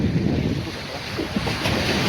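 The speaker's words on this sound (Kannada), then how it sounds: "ಅಲ್ಲಿ ನೀರು ಬಡಿತದೆ" Sea waves washing onto a beach, a continuous rolling surge of water mixed with wind rumble against the microphone, no voices.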